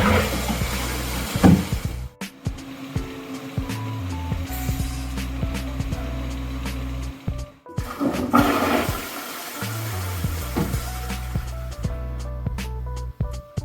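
A toilet flushes twice in a row, each with a loud whooshing rush of water into the bowl followed by the tank refilling, and a clunk or pause between them.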